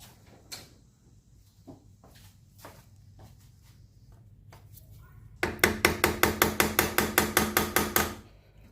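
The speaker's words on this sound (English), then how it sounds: "I'm just taking a hammer and kind of banging a screwdriver in there." Hammer striking a screwdriver wedged into the sump of a Briggs and Stratton 27hp V-Twin engine, a rapid steady run of about fourteen sharp metallic blows after scattered quieter clunks and handling noises.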